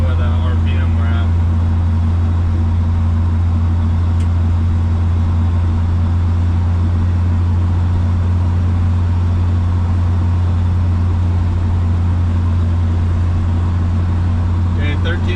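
A 1966 Chevy El Camino with an LS swap engine cruising in overdrive at low RPM, a loud, steady, droning engine and road roar filling the cabin without letup.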